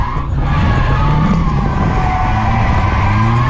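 A drift car skids under throttle, its engine droning loudly and continuously alongside tire noise, with the pitch wavering up and down as the car jerks back and forth.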